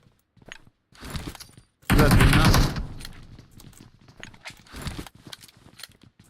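A short fusillade of gunfire inside tunnels bursts loudly for about a second in the middle, surrounded by clipped shouting voices speaking Arabic before and after.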